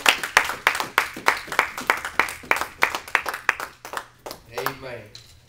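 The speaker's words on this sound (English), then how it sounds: "Give the Lord a hand clap." A church congregation claps hands in a steady rhythmic beat, close and fairly loud, with about a dozen sharp claps spaced under half a second apart, while voices speak and sing over the clapping.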